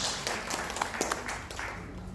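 A church congregation at a family blessing service in Jakarta applauds, with soft, fairly distant clapping that carries steadily through the room.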